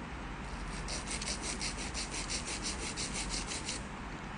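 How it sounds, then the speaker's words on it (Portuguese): Nail file sanding a fingernail tip side to side to square it off: quick, rhythmic, close scratchy rubbing strokes repeating over a few seconds under a faint steady hiss. "E venho para o lixamento de ponta, posiciono, inclino levemente e venho, ó, de um lado para o outro para deixar quadrado."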